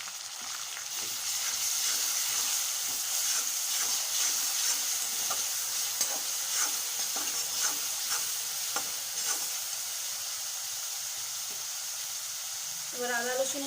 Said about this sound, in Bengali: এবার এর মধ্যে পেঁয়াজ পেস্টটা দিয়ে দেবো।